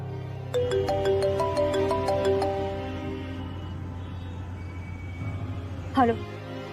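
A phone rings on an outgoing call from a Hindi TV drama scene, a repeating melodic ringtone tone pattern in the first half that fades under a murmur of room sound, ending with a brief swooping effect.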